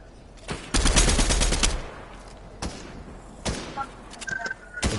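Automatic gunfire in Fortnite: a long rapid burst of shots up front, followed by scattered single loud cracks and thuds, close and punchy, with no talk over it.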